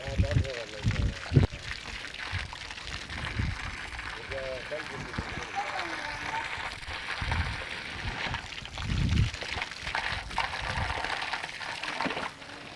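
Water running from an opened tap pours and splashes onto cow dung in a tank to mix into slurry. The sound is steady and close, heard under a person talking.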